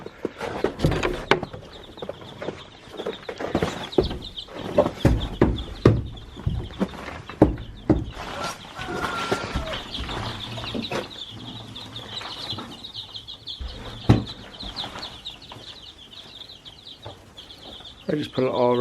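Chickens cluck and squawk close by in a home coop with rare-breed chicks, in scattered irregular bursts amid rustling, wing flaps and knocks, while people talk over them.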